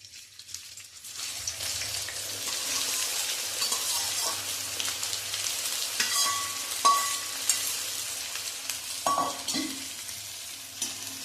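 Chopped onion sizzles in hot oil after a quiet start, building into a steady close frying crackle with intermittent spatula scrapes and clinks against the pan, no speech.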